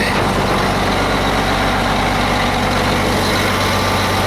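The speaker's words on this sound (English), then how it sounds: "This is just at an idle." A Mack Vision truck's diesel engine idles steadily, a loud continuous low rumble throughout with no talking.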